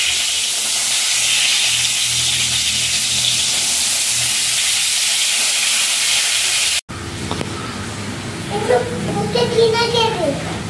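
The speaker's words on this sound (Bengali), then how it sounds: "বেগুনটা তাড়াতাড়ি করে ভেজে নিই" Eggplant frying in a wok gives a steady, loud hissing sizzle for about seven seconds, then cuts off abruptly, followed by quieter kitchen sounds with a voice and other talk.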